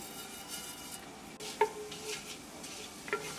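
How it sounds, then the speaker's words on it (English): Cumin seeds sizzle and crackle in a tablespoon of heated olive oil for a potato and pea curry, a steady soft hiss with two sharper pops and light stirring clinks, close and alone. "As oil start to heat up, bring cumin seed, jeera."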